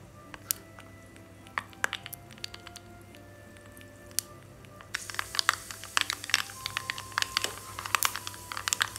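Mustard seeds and red chillies crackle in hot oil for a dal tempering, with scattered sharp pops that grow much denser and louder halfway through, close up, no talking.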